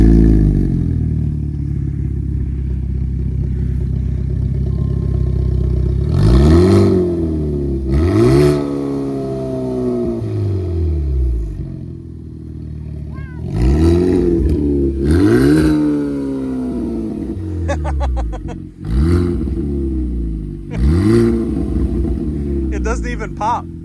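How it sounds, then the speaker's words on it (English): A Hyundai Elantra N four-cylinder engine with a titanium mid-pipe idles with a raspy, loud exhaust, then revs up sharply several times in quick bursts, each rise falling back to a rough idle. "It just sounds like a noisy 4-cylinder."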